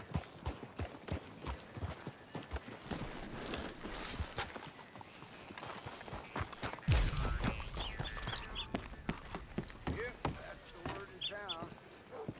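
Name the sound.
horse hooves walking, from the video game Red Dead Redemption 2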